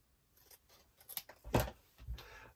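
Scissors snip through paper while trimming an art journal page, a few quiet separate cuts with one sharper snip in the middle, close and alone in a quiet room.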